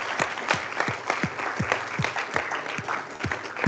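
A small audience gives a round of applause for a student developer club's treasurer, with distinct close hand claps repeating at an uneven, steady pace and no talking.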